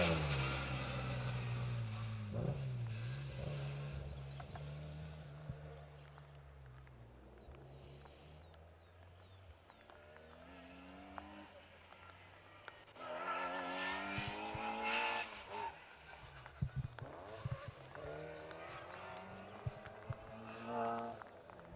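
A Mini rally car races along a wet asphalt rally stage, its engine note rising and falling through gear changes and passing close by, with tyre noise and a burst of revving, alone without talk.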